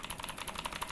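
Quick, crisp clicking of keys on a retro typewriter-style mechanical keyboard with USB LED backlighting, a steady run of light clicks heard alone and fairly soft.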